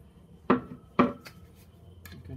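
Metal tool prying at the oil pan of a BMW 135i E82 with an N54 engine, bolts already out: two sharp, close metallic clanks about half a second apart, then a few fainter taps.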